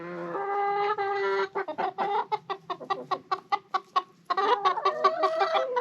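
Chickens cluck loudly and close by on a snowy farm, a run of sharp rapid clucks and squawks in bursts, with overlapping hens calling together at the start and end.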